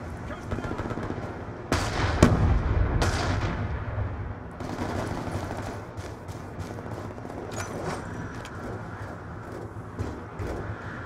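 A grenade explosion and gunfire in the first-person shooter Call of Duty: Black Ops 2, with a sharp blast near the start followed by continuous rattling automatic fire and scattered shots over a busy game background, while a player speaks at times.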